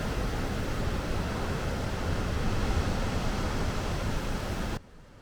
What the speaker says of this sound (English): Can you hear the sound of the waves?